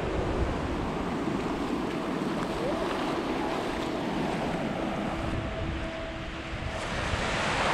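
Sea waves wash steadily onto a New South Wales beach near a campsite, a continuous rushing surf with some wind buffeting the microphone, loud and unbroken throughout with no talking.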